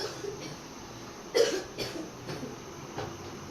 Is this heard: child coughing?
yes